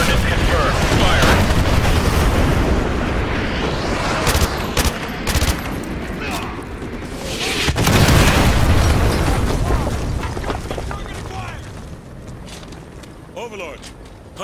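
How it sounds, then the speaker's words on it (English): Artillery strike in Call of Duty MW2 Remastered, dense rolling explosions and booming impacts mixed with gunfire, loud and continuous, with a voice speaking over the barrage before it gradually eases. "Artillery inbound."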